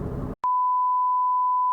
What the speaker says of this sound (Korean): 2차 경고는 그로부터 한 15초 정도 더 걸린 것 같아요. 이렇게 소리를 내고 있죠.